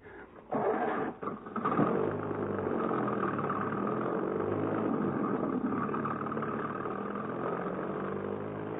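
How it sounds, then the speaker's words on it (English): A car engine drones as the car drives down a hill in an Australian crime show, a steady mid-pitched hum starting after a few brief knocks and continuing alone at moderate volume. "That must be his car going down the hill."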